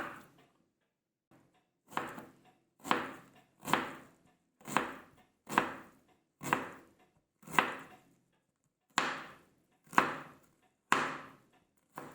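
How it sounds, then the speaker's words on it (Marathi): A knife finely chops onion on a board for a traditional village-style bharit, giving about eleven crisp, evenly spaced chops, close and fairly loud, with short silent gaps and no talk. "बारीक बारीक कांदा चिरून घ्यायचा आहे"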